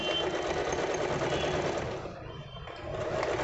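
Usha Janome Excella Deluxe sewing machine stitching steadily, a loud continuous motor whir and needle chatter that briefly slows and softens before resuming at full speed, with no voices.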